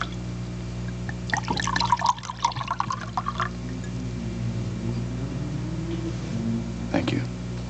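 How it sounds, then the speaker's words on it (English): Wine poured into a glass, a gurgling, splashing trickle in the first few seconds, soft and close, with a quieter second pour near the end over a low room hum. "Why don't you pour the wine?"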